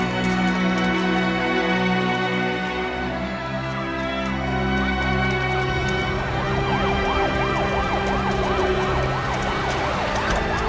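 A fire engine siren at a fire scene where the trucks are blocked in, its wail rising and falling loudly over a dense, constant background roar.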